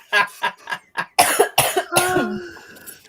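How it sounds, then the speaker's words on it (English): A woman coughs in a burst of harsh, rapid hacks at mid-clip, preceded by quieter breathy sounds and followed by a drawn-out throaty rasp, close and moderately loud. "now she's playing up the coughing"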